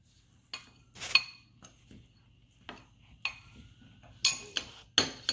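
A utensil stirs a homemade pancake or playdough batter mixed with oil in a container, giving sparse, faint clinks and light taps at uneven intervals, with no voices.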